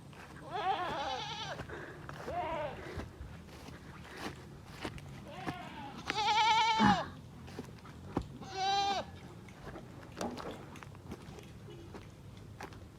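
Several goats bleat in wavering, nasal cries spread across the scene, some close and loud, with low background noise and occasional footsteps.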